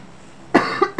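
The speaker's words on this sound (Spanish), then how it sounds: "Esta tos también es alérgica." A man gives a short burst of allergic coughing: two or three close, sharp coughs, loud and near, with no talk.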